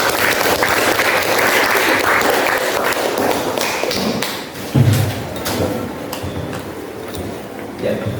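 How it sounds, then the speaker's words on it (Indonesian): A high school Islamic religious education class claps together at the end of a lesson: sustained, full-room applause with scattered thumps and taps, thinning out toward the end. "Kita akhiri dengan tepuk tangan bersama dulu ya."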